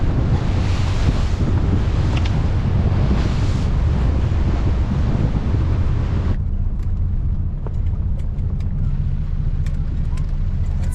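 Big waves and strong wind while sailing at sea, a steady roaring wash of surf and gusts buffeting the microphone for about six seconds, then a quieter stretch of sloshing water and wind with small knocks from the boat.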